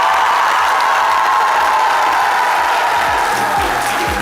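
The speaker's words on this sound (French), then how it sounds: "ça s'applaudit s'il vous plaît" Studio applause celebrating Côte d'Ivoire's 2-1 win, a loud sustained burst of crowd clapping and cheering, dense and even from start to finish.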